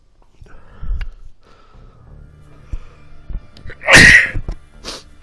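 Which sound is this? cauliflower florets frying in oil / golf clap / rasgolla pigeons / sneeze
sneeze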